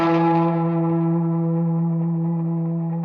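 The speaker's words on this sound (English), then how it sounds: "on the little box, let's see what kind of reverb we can get out of here" An electric guitar runs through a Boss RE-2 Space Echo pedal set for reverb, a sustained chord ringing out loud and full, then decaying slowly with a washy tail, heard alone.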